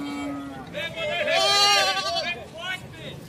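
Goat bleating repeatedly at a busy livestock fair, several wavering cries rising loud and close over a crowd's babble and nearby talk.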